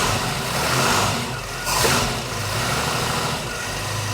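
A car engine fitted with an EFI fuel pulse dampener idles steadily, then rises in a brief, modest rev and settles back to idle, close up with no talking.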